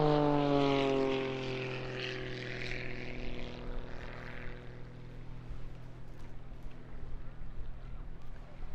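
A Pitts biplane with a propeller engine flying at the Eastbourne International Airshow: a loud, steady drone that falls in pitch as it passes close by, then fades into distant engine hum and wind.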